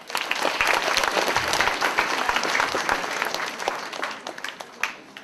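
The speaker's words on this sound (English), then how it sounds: "One more round of applause for him." A school assembly audience claps loudly and steadily throughout, with the applause tapering slightly toward the close.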